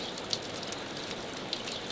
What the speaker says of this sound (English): So this rain will definitely recharge our soil.